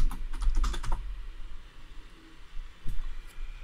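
Brief bursts of close typing on a computer keyboard give quick clustered key clicks, then a pause before a single faint keystroke, against a quiet room.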